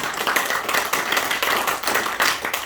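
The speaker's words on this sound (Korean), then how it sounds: "박수 한번 쳐야 되겠다. 더 크게 더 크게." A church congregation claps for the women who prepared the Sunday meal, a dense, steady patter of many hands at moderate volume, rising in a few louder surges.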